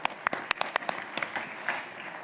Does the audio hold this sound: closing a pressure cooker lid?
no